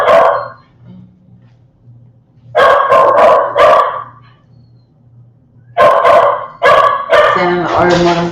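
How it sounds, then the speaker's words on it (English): Several dogs bark excitedly in loud, close bursts, clustered barks with pauses between them and yips near the end. "Oh, the dogs are going crazy."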